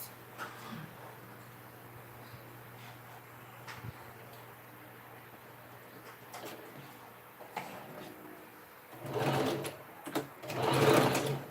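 A sewing machine stitches a bag, with a low steady hum and scattered light clicks of handling, then short motor runs that rise into a louder whirring burst near the end.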